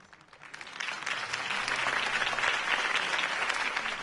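Crowd applause in a Batman Telltale video game, following Harvey Dent's campaign speech; dense, steady clapping swells in over the first second and holds loud and even throughout.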